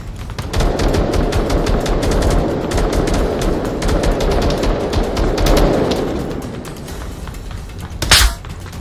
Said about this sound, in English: Oh, someone shot me.